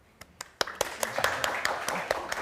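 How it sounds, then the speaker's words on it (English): A small audience claps at a creative workshop talk, sparse individual claps quickly building into brief steady applause, fairly close and moderately loud. "Let's have a round of applause for Christian too"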